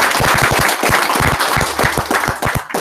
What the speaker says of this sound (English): On applaudit déjà.